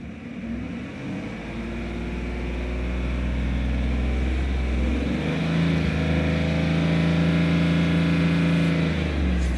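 A Chevrolet Silverado engine revving up under acceleration, a loud close drone whose pitch climbs and then holds at a steady higher tone, no voices.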